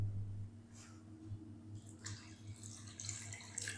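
Water is poured into a pot of lentils for Kashmiri dal and chicken haleem, a faint splashing trickle that swells partway through and continues with soft gurgles beneath a low background hum.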